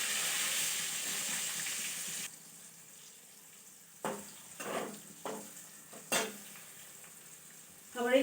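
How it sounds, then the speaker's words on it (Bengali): Pumpkin pieces fry in hot oil with a loud, steady sizzle for about two seconds, then the frying quiets as a spatula scrapes and clanks against the pan in several sharp, separate strokes. "এবার কুমড়োটা ভাজছি।"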